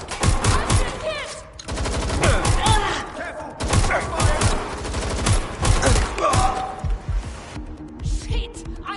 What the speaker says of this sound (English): They're shooting. They shot me.